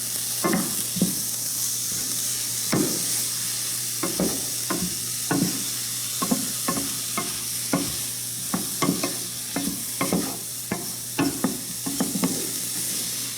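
Tomatoes go into a pan of vegetables, which keep a steady frying sizzle while a spoon stirs in sharp, repeated scrapes and knocks throughout, close and clear with no talking.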